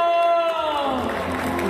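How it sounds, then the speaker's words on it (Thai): Crowd noise rising at a ladyboy beauty pageant, Miss Andaman Pride 2023, as the audience claps and cheers for a prize winner, a broad wash of applause building under lingering music tones. "ขอเสียงปรบมือดัง"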